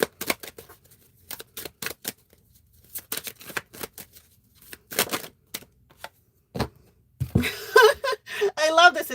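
Tarot cards are riffled and shuffled in quick, crisp bursts of papery flicks separated by short pauses, close and fairly loud, with a brief spoken voice near the end.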